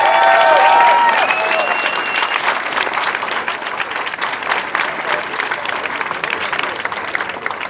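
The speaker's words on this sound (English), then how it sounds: "please give a very warm round of applause for Commissioner Amanda Fritz as we honor her" A crowd applauds warmly for a city commissioner being honored at an outdoor refugee and immigrant community walk event, with a few whistles at the start before the clapping settles into a full, sustained wash.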